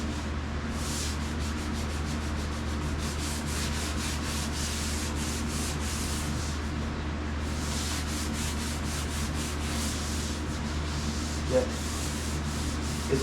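Hand sanding of painted bodywork with 220-grit sandpaper for a light scuff, a steady continuous rubbing hiss with rhythmic back-and-forth strokes, close and moderately loud, with a brief word spoken near the end.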